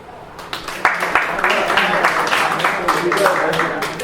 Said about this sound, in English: Let's hear about applause if you've ever done any yoga